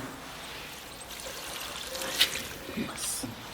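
Water pours into a cooking pan on a new stove in a village kitchen while radish leaves cook. The pour is a soft, steady splash, with voices talking over it.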